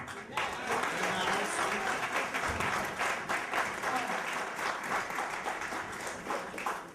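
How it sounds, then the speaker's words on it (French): Audience at a French-English Christian gathering breaking into sustained applause, a dense, steady wash of many hands clapping that stays loud for several seconds, with voices faintly mixed in. "Et je vous demande d'acclamer la servante de Dieu."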